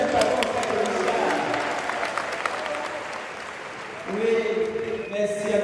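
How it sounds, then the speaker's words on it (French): A church congregation at a Saint Augustine parish celebration in Dschang applauds its patron saint, with loud, dense crowd clapping throughout and voices and music rising over the applause toward the end. "Est-ce qu'on peut applaudir pour notre Saint Patron Saint-Augustin?"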